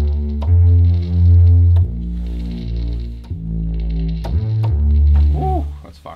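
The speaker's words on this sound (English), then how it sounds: "So I got this bass." A deep synth bass plays in a music production beat, sounding as heavy, sustained low notes changing pitch every second or so over other synth tones, loud and full, with a short pitched sweep near the end.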